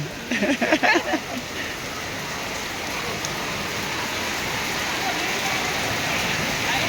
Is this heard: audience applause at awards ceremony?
no